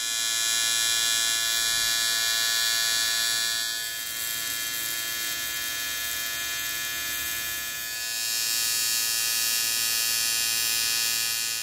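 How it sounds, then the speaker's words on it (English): Buzzing electric welding arc played back from a recording of a flawed weld, a steady loud hum with many fixed tones that dips slightly in the middle and swells again, with no talking. "the arc on the weld that I screwed up on is way louder than the arc of the control weld"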